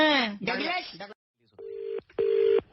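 A telephone being dialed for a prank call, a few short electronic keypad tones in a quick series after a brief spoken line, with a voice talking first.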